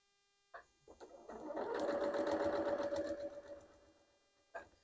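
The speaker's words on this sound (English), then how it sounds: "Okay, back to the sewing machine." A sewing machine starts up, whirs steadily for a couple of seconds with a fast mechanical stitching rhythm, then slows and stops, followed by a click.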